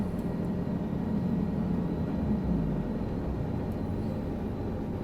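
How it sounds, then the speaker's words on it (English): Steady, droning engine and rotor hum of a Guimbal Cabri G2 helicopter in Microsoft Flight Simulator 2020, a low continuous rumble that holds level throughout with no voices over it. "That is the G2 helicopter."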